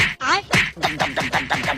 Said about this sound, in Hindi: फिर नीचे देखा तो पता चला ये दानव नहीं बल्कि बतख है।